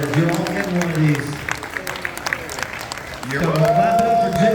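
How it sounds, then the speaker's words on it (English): Audience clapping and cheering at a Comic-Con panel in San Diego, heard under and between strong voices talking over it, the crowd noise rising again toward the end. "So clap it up for Jim"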